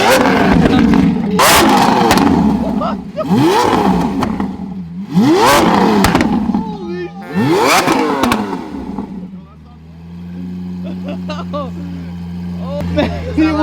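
A V12 car engine fitted with a fire-breathing exhaust blips through four loud, sharp revs in quick succession, each rising and falling, then settles to a deep rumbling idle; excited voices are heard over it.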